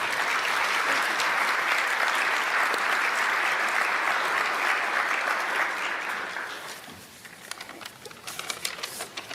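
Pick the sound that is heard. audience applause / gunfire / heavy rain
audience applause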